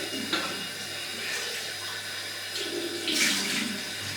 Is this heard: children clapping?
no